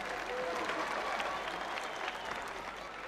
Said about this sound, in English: the crowd appreciating a brave effort